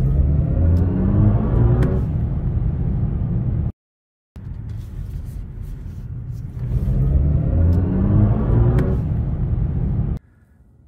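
Synthetic engine sound effect from a BMW i5 M60 electric car, a loud, steady rumbling drone with rising revving sweeps, cutting out briefly near the middle and again at the end.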